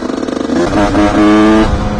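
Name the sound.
motorcycle riding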